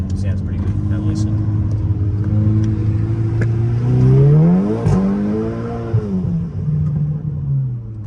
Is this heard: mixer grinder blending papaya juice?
no